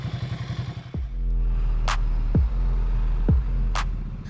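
A 2024 Ducati Scrambler Full Throttle motorcycle rides off, its idle burble rising into a loud, close engine roar that climbs through three quick gear changes.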